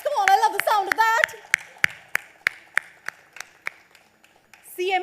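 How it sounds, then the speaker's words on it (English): A voice speaks at an expo inauguration and opening ceremony in Mumbai, then sharp, separate hand claps follow in a slow, steady run, sparse and echoing in a quiet hall before speech resumes. "This definitely calls in for a huge round of applause."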